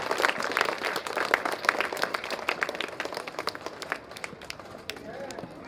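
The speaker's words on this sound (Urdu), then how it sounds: "اسلم انصاری صاحب اور ان کے تمام اساتذہ کے لیے زوردار تالیوں سے ان کا سوالت ہے۔" A crowd at a school anniversary day programme claps for Aslam Ansari and his teachers, a steady run of many hands that stays fairly loud, then thins and softens toward the end.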